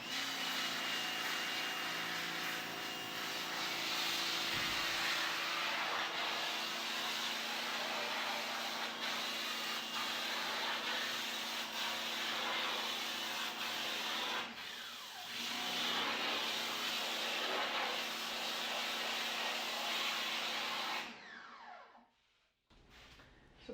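A pressure hose blasting photo emulsion off a silkscreen, a loud, steady broadband hiss of spray held for about twenty seconds with slight shifts as the jet moves, then cutting off abruptly near the end.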